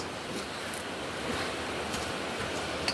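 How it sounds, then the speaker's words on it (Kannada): A steady, even rush of water, like a tap running, with a soft broadband hiss that holds constant for the whole stretch. "ಇಲ್ಲಿ ನೀರು ಬಿಡಿ ಟ್ಯಾಪ್ ನೀರು"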